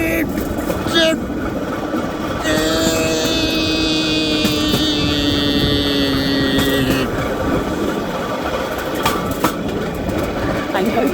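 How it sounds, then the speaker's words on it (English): A child's toy train horn sounds a sustained, buzzy multi-tone blast lasting a few seconds, close and loud amid background chatter and household noise. "Blowing his train horn."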